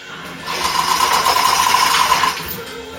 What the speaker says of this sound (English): going to let the chains off.